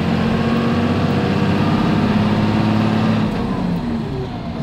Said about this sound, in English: A little third gear, a little lug in third gear,